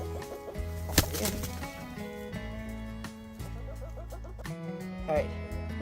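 Chickens cluck in a snowy November garden as they are carried in by hand, short clucks scattered under steady close talking.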